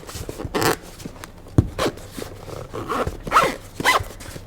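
A zipper on an Anker Soundcore headphone carrying case is pulled open and shut in several quick, scratchy bursts, close up, with light handling noise between pulls and no speech.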